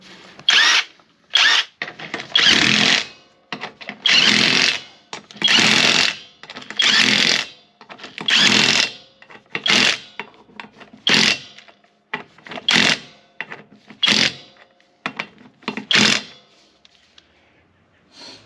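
A GATmatic 21V brushless half-inch drive impact driver removes lug nuts in a loud series of repeated hammering bursts, each about a second long, separated by short pauses, growing shorter and sharper toward the end.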